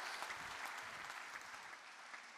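A church congregation applauds after a morning message, producing steady, even clapping at a moderate distance with no talk over it.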